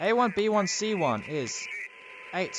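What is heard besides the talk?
No distinct noise like a dog, phone or traffic.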